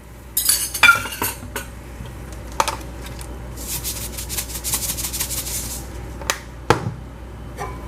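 Eggs with a pinch of salt being beaten in a bowl, a fork or utensil clinking and scraping against the sides in irregular bursts, with quieter rubbing and stirring between the clatters and no talking.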